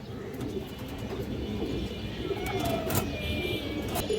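Old male fancy pigeons coo steadily in a loft, soft low calls repeating under faint background voices and chirps.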